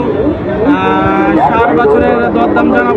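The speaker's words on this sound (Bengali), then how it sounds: "এখানে অনেক সার বাছুর আছে দেখেন" Bull calves at a Bogura cattle market low and moo in overlapping calls throughout, with steady crowd chatter and voices mixed underneath.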